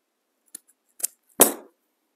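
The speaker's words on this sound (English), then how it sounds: "let's cut this one" Scissors trimming foam pieces for DIY craft flowers, a few quick snips: two short faint clips followed by one louder, longer cut, alone in a quiet room.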